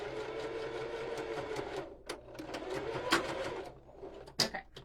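Sewing machine back stitching fabric for a water bottle holder: a close, fast mechanical whir with short stops and restarts, plus a few sharp clicks near the end.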